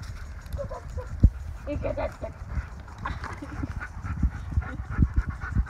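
A dog playing outdoors and chewing a stick to bark, with irregular crunching, gnawing and panting close by, while people talk and laugh over it.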